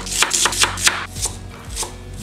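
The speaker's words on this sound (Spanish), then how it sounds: "Vamos a picar poquita cebolla para prepararlo," A knife chops onion finely on a cutting board while preparing beef picadillo, a quick run of sharp, close, rhythmic blade strikes with brief pauses between bursts, and no voices.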